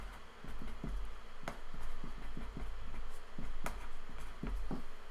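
Marker or chalk writing on a board in a maths classroom, a run of short scratchy strokes and taps at close range over a steady low room hum, with no talking.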